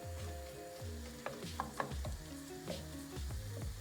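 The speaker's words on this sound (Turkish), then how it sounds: "Sarımsaklarımızı da attık. Kavurduk biraz şöyle." Garlic fries with kaymak in a clay pot for a dry bean and mushroom stew, giving a soft, steady sizzle with a few light stirring clicks and scrapes throughout.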